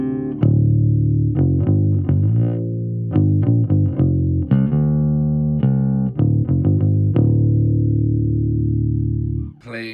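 A P bass played clean through an Orange OB1 500 amp and a pedalboard with slight reverb gives deep, sustained notes and plucked phrases. The sound is loud and close, with no talking.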